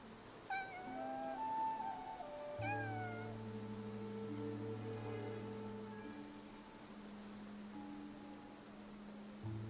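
A cat in the video game Infinity Nikki gives a few rising meows near the start, then soft game music with tonal notes plays over faint rain patter.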